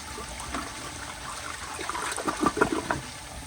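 A round Procemex toilet flushes quietly and weakly, a soft rush of water building into gurgling trickles near the end.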